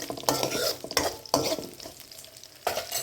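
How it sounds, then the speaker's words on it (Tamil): Garlic stirred and sautéed in oil for a Tamil garlic kuzhambu: a steady close frying sizzle runs throughout, broken by several sharp scraping stirs of a spoon against the pan. "பூண்டு சேர்த்து நல்லா கிளறி விடுங்க. இந்த எண்ணெயிலேயே இந்த பூண்டு நல்லா வதங்கி வரணும்."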